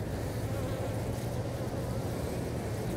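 Honey bees at a live beehive installation hum steadily and closely, a continuous low buzzing drone with no talk over it.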